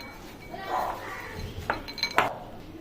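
A spoon works tutti frutti and flour together in a bowl for a fruit cake, giving a few soft scrapes and then two or three sharp, close clinks against the bowl.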